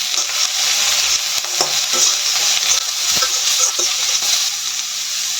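Two medium carrots, chopped and just added to onions browned in a pan, sizzle and hiss loudly and steadily, with a few scraping stirs of a spoon breaking through the frying noise.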